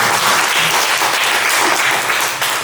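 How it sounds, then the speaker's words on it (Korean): A church congregation at a Sunday worship service during a church-wide retreat claps together in loud, dense applause that continues throughout. "우리 박수로 한번 다 같이"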